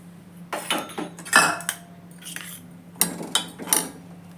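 A spoon stirs groundnut halwa with ghee in a pan over low heat, producing close metallic scrapes and clanks in irregular bursts against a low steady hum, with no voices.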